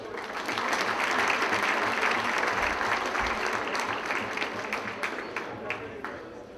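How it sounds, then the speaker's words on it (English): Audience applause swells at a chamber of commerce winter gala, a steady wash of many hands clapping that stays strong for several seconds before slowly easing off. "Ladies and gentlemen, I want to hear a big round of applause for Mr. Namal Bajaj."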